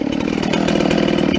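Vintage hot rod chainsaw bucking firewood: a loud, close, steady high-revving two-stroke engine whine with a raspy buzzing chain, held continuously at full throttle with no voices.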